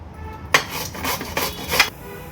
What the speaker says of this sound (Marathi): बीटचं साल काढून घेतले आपण आता हा खिसून घेणार आहोत जी खोबरं खिसायची खिसणी असते ना त्यांनीच हा खिसून घ्यायचा आहे